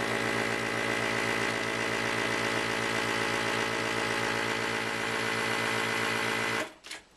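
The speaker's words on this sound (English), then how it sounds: "I'm just going to hit on, and it'll do the vacuum." A FoodSaver Ultra vacuum sealer pump drones loudly and steadily at close range with a buzzing, pulsing motor tone, then cuts off abruptly near the end.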